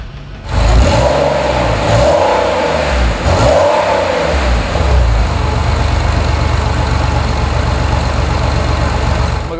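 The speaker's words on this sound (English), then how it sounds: "how about I go ahead and start it for you, because it makes a great sound" A 1998 Porsche 911 S engine cranks and catches, then blips through a few sharp revs before settling into a loud, steady idle. The car is recorded up close.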